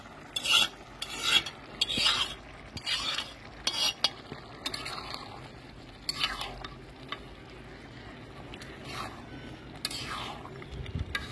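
Cooked pigeon meat goes into a pot of spicy fried-rice pulao and is stirred, producing repeated close bursts of scraping and rasping utensil strokes at an uneven rhythm.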